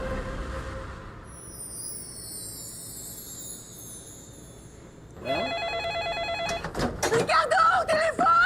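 A telephone bell rings with a bright trilling tone, followed by a sudden louder burst of sound and a voice calling out.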